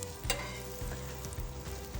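Corn fritters batter with egg sizzling steadily in a frying pan, a continuous crackling hiss with a few soft bumps of the pan, close and alone with no talk.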